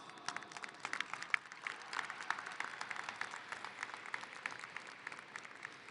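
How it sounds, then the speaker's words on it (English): Applause from a graduation ceremony audience at a high school, a steady, moderately distant wash of many hands clapping together that holds evenly throughout without a break. "Let's give them a round of applause."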